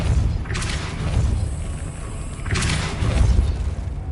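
The Depulso spell in Hogwarts Legacy fires twice, each a loud, booming whoosh of force that swells and fades over a steady rumbling game background.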